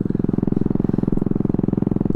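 A Honda Ruckus scooter engine runs close by with a loud, steady, fast putter that keeps an even rhythm throughout the short stretch.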